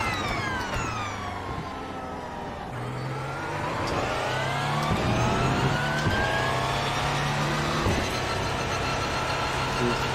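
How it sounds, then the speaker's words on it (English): Porsche 911 race cars in iRacing at Circuit of the Americas roar past and shift, their engine notes rising and falling under a busy mix of several cars, with brief radio-style voices between. "Something about the sound of those 911s just makes you feel a warm and fuzzy head"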